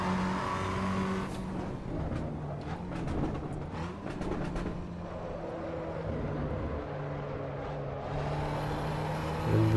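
A race car drives in Assetto Corsa Evo, with a steady engine drone and revs that rise and fall as the car accelerates and changes gear, alongside scattered clicks and tyre noise, and no voices.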